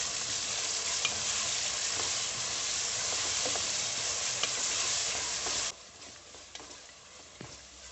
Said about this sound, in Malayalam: സവോള എരിഞ്ഞത് ഇഞ്ചി വെളുത്തുള്ളിയും പച്ചമുളകും കൂടി ചതച്ചെടുത്തത് രണ്ട് തക്കാളി അരിഞ്ഞത് എല്ലാം കൂടി ചേർത്തൊന്ന് വഴറ്റിയെടുക്കുക